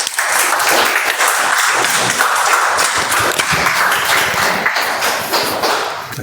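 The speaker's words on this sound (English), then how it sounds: "Let's welcome with a thunderous round of applause" A Toastmasters meeting audience gives a round of applause to welcome the table topic master, loud, dense clapping sustained for about six seconds.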